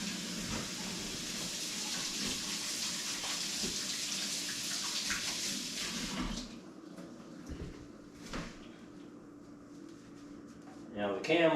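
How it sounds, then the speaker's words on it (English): A tap runs steadily as hands are washed under it for about six seconds, a broad close hiss that then stops, followed by quieter room sounds and faint knocks. "Wash my hands here real quick."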